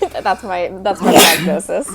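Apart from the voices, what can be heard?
sneeze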